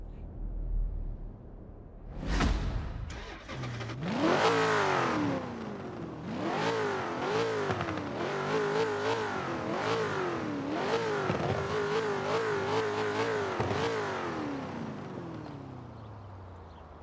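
A car engine revs hard in the video game Forza Horizon 4, a loud sustained roar that climbs and falls in repeated waves after a few short blips, staying close and steady with no talk over it.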